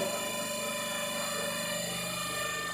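A three-phase alternator machine set runs up toward its rated 1500 rpm, giving a steady mechanical drone with a rhythmic pulsing hum and layered whining tones, moderately loud and continuous.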